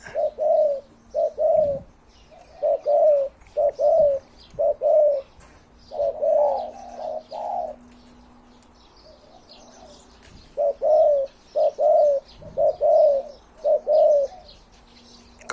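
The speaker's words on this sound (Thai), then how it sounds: "นกเสียงใหญ่เนาะเสียงกลางไปใหญ่เลยครับ" A spotted dove, a hybrid with a deep, mid-to-large voice, coos in repeated rhythmic phrases of soft, hollow notes, paused between bursts, with faint chirps from other birds in the background.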